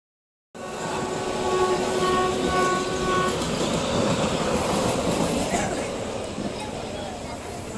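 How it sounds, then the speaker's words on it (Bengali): A Kolkata local train running from Sealdah to Sonarpur, heard from inside as a loud continuous rumble and rattle of the carriage, with a sustained horn tone early on and voices mixed into the noise. "আজকের এই পর্বে আমি আমার কলকাতার ট্রেন যাত্রার কিছু অংশ তুলে ধরব।"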